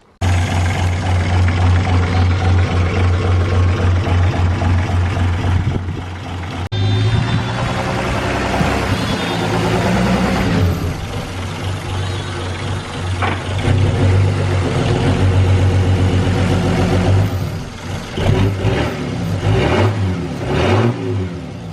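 The project car Dusty's engine idles steadily, then revs and pulls away while driving, a loud, continuous engine note with rising and falling throttle swells and no talking.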